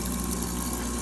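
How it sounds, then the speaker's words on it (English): An Isomac espresso machine's pump hums steadily while dispensing hot water, a close, continuous low drone with a faint watery rush and no talk. "And let's do some hot water."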